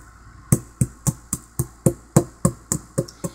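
A pestle strikes ingredients in a bowl, about a dozen sharp, evenly spaced knocks a quarter second apart, close and fairly loud with no talking.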